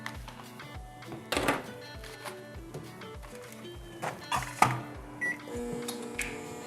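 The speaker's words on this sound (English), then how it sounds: "I'm going to melt these in the microwave." A microwave oven heating candy melts for cookie decorating gives off a steady low hum, with a few sharp beeps and clicks rising above it. No one talks.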